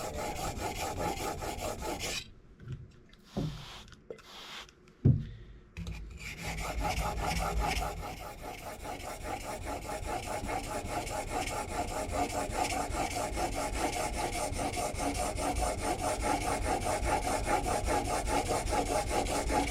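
A planer blade is sharpened by hand with a continuous gritty rasping scrape close up, broken by a brief pause and a few knocks early on before the steady grinding resumes.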